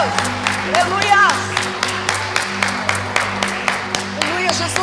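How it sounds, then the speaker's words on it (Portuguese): A church congregation claps steadily in rhythmic, evenly spaced applause during worship, with a voice calling out over the clapping and a sustained musical backing beneath. "Aplauda o Senhor Jesus."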